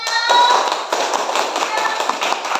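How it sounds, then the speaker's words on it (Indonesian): Classroom clapping for a classmate, a burst of quick claps from a group of students with children's voices over them, close and fairly loud. "Oke, tepuk tangan untuk temannya."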